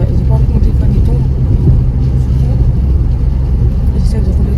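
Car driving along at a slow, gentle pace, with a steady low engine and road rumble filling the interior continuously and close by.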